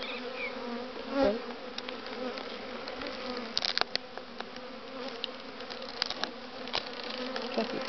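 Dark European honey bees buzz steadily inside a hive with wild comb, a dense close hum running throughout with a few sharper knocks and clicks from handling the box.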